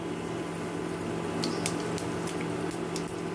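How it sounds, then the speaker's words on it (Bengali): Panch phoron and dried red chillies fry in hot oil, giving a steady, dense sizzle that fills the clip, with a few faint crackles and pops and no talk. "এখন আমি ফোড়নটাকে 3-4 সেকেন্ডের জন্য ভালো করে ভেজে নেব"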